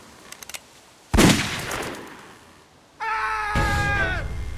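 A single sharp gunshot in The Walking Dead game rings out loud and close, followed by a decaying tail and then a shrill, wavering cry-like sound and lingering noise.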